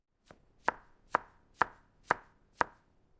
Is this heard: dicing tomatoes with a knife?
yes